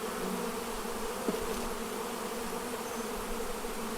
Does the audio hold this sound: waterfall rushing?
no